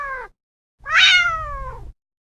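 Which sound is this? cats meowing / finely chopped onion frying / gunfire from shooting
cats meowing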